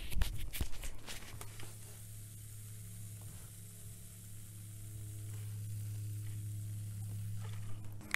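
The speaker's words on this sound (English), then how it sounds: "The baking soda is actually neutralizing the acid as well." Baking soda fizzes on car battery acid, a steady crackling hiss that goes on without a break close to the mic, with a few handling knocks near the start.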